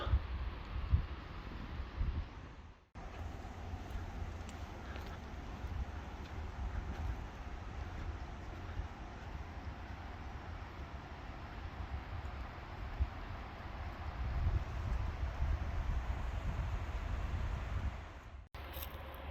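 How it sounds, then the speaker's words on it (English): Wind rushes steadily through treetops along a swamp trail on a hot day, a broad continuous roar with gusts swelling toward the end and brief drops near the start and finish. "That's what happens when the wind blows."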